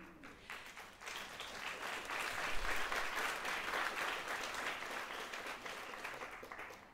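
Sustained applause from a live audience at a French comedy stage show, steady dense clapping that fills the whole stretch at moderate level, with no voices over it.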